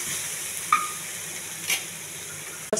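Onions with ginger garlic paste fry in a pan with a soft, steady sizzle. A few faint clinks of stirring break in now and then.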